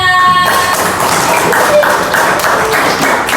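A class of pupils claps hands in a classroom, a burst of many quick overlapping claps following a brief tonal sound at the start, fairly loud and close.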